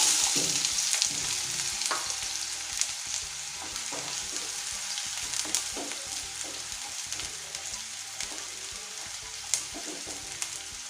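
Finely chopped large onion fries in hot oil in a pan for an Andhra-style chicken fry, a continuous close sizzle broken by soft scraping stirs at irregular intervals, with no voices.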